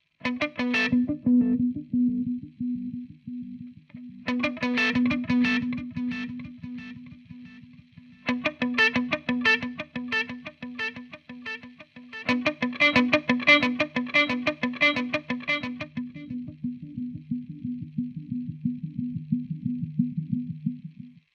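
Electric guitar played through a reverb pedal, its wet signal run into a darkened, low-pass filtered delay; repeated strummed chords and single notes ring out in bursts, with echoing repeats trailing under a steady sustained low note, no talking.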